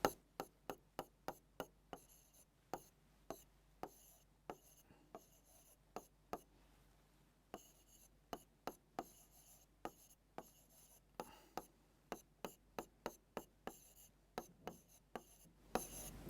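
Chalk or a marker taps and scratches on a board while a chemistry problem is worked out, a rapid series of short, crisp strokes in irregular bursts with brief pauses between.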